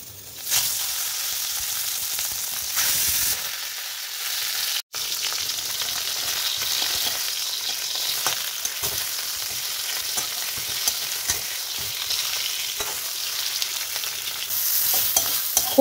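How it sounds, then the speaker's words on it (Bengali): Malabar spinach chorchori fries in a little oil in a pan, giving a steady, close sizzle with occasional stirring scrapes and no talking. "চলো চটপট করে আগে পুঁই শাক চচ্চড়িটাকে বসিয়ে দিই"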